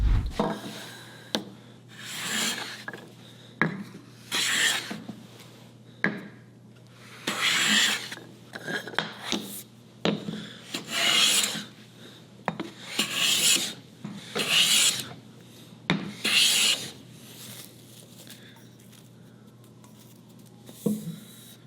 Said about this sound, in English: it is cutting, it's producing shavings, and the shavings aren't bad